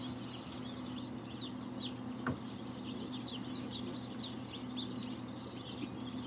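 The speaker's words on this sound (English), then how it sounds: "Oh, guineas are hatching." Chickens cluck softly in a coop where guinea fowl keets are hatching. A low incubator or brooder hum runs underneath, and faint chirps come in scattered bursts with no one speaking.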